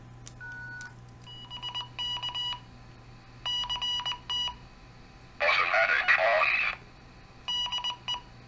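Several short bursts of DTMF dial tones keyed from a Kenwood handheld radio to a fox hunt controller, followed by a louder, denser reply tone burst and more tone pairs, heard over a faint low hum.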